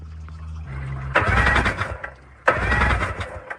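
A mini jet boat engine, just cleared of water that had flooded its cylinder, catches in two loud, rough bursts with a short pause between, each revving up then sputtering down.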